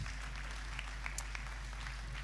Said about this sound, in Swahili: Situpigie Yesu makofi mazuri.